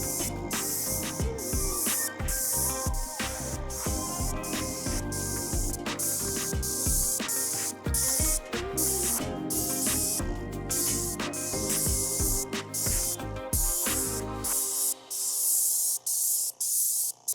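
A paint sprayer lays oil-based satin paint onto cabinets in a loud, steady hiss, broken by brief pauses between passes before going quiet near the end.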